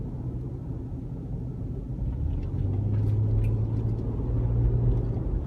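Steady low engine drone heard from inside a Lexus RX300's cabin, its pitch dropping and settling into a new note partway through as the U140F automatic transmission downshifts.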